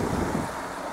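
A mountain stream flows beside a wooded forest path in the Low Tatras near Donovaly, giving a steady, broadband rush of water that stays fairly loud and continuous throughout, with no talk.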